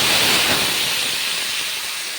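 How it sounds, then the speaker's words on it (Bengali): Taro leaves hit hot frying spices in a pan, giving a steady loud sizzling hiss that fades slightly over a couple of seconds, with no talking. "ভাজাটা হয়ে গেছে মশলাটা ভাজা হয়ে গেছে এবার আমি কচু শাকটা ছেড়ে দেবো"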